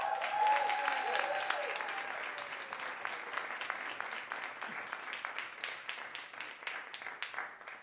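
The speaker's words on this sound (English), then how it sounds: "I want to give a very big applause to all the women who is here tonight" Audience applause for the women present at an evening event, a full burst of clapping that swells at the start and gradually thins, continuing steadily with individual claps standing out.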